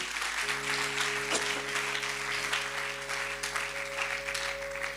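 A church congregation applauds, with steady scattered clapping throughout, while a sustained musical tone, likely an organ or keyboard, plays underneath.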